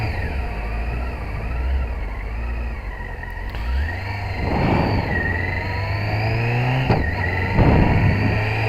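A cold Yamaha R6 motorcycle engine revs up and down repeatedly against a steady idle, close and loud, hesitating at a flat spot and briefly cutting out.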